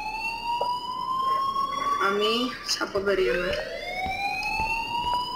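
A fire alarm rings in the video game Life is Strange, a steady electronic tone that sweeps in pitch and holds throughout at moderate loudness, with several voices speaking over it.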